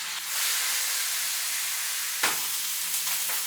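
Beef searing in a hot pan gives off a steady, loud broadband sizzle that runs throughout, with a brief sharper crackle and hiss near the end.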